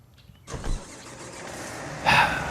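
A tractor engine starting in Farm Expert: silence, then a sudden cranking catch and a short roar, a settling idle, and a louder rev near the end, close and alone.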